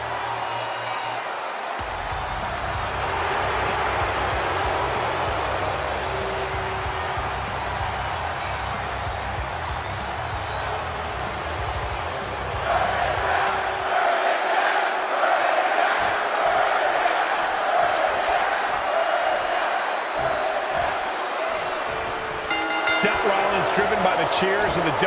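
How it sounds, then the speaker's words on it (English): A large arena crowd in the WWE 2K20 wrestling video game roars and cheers continuously, with low rumbling booms early on and a swell of louder crowd noise partway through. "Would you listen to this crowd?"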